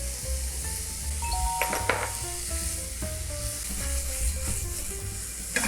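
Sliced button mushrooms, onion and tomato stir-fried in a pan, with a continuous close sizzle, brisk stirring scrapes and a few light clinks of the utensil against the pan, and no talking.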